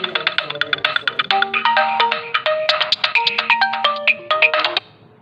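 A mobile phone rings with a bright, repeating electronic melody of quick tonal notes, loud and close, continuing for about five seconds during a classroom lecture before cutting off abruptly.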